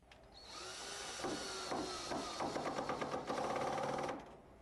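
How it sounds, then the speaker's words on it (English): A power drill bores pilot holes into a kitchen countertop during an IKEA AKURUM cabinet installation, a steady close whine that rises and falls in short pulses as the bit bites, then stops abruptly. "Be sure to drill pilot holes in the countertop before securing it."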